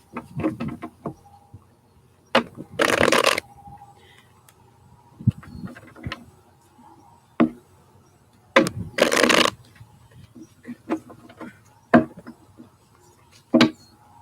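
Intermittent riffling bursts of playing cards being shuffled, several separate quick flurries with taps and handling noises between them, fairly close.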